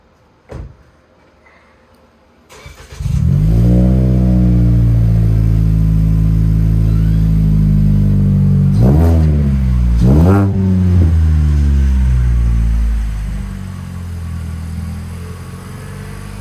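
A 2020 Toyota Corolla hatchback with a freshly welded titanium exhaust starts up, then settles into a loud, steady idle broken by two sharp revs of the engine near the middle.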